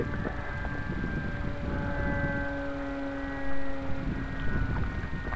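A rebuilt Spitfire aircraft in flight gives a steady, moderately faint droning engine hum with wind rush, holding a constant tone throughout with slight swells near the end.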